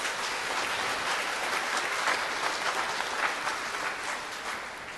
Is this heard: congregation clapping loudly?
yes